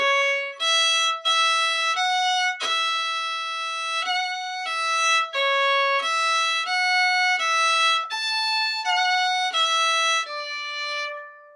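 Solo fiddle plays the opening two phrases of the Quebecois reel Le Forgeron, a bright run of distinct bowed notes at a steady lively pulse, close and clear with no voices.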